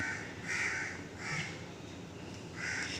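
Crows caw in a tree by a balcony in the morning: three loud, harsh bursts of overlapping calls, evenly spaced, close by, with no voices.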